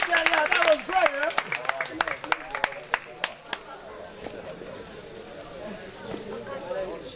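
An audience claps for two speakers at a language centre event, quick scattered hand claps that start dense and loud, then thin out and fade while voices talk over them.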